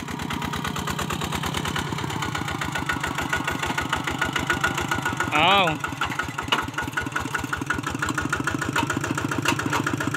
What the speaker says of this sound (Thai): ไถเปิดลงมันสำปะหลังครับผมเพื่อที่จะทำการเสียหญ้านะครับโดยรถไถหน้าเดินตามนะครับ